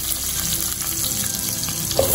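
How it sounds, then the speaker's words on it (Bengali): Salted, washed and drained cubes of potato fry in a pan over a low-to-medium flame, making a continuous dense sizzle, loud and close, with a brief clatter at the end. "এই আলুর টুকরোগুলো আমি একটু ঢেকে ঢেকে ভালো করে ভেজে"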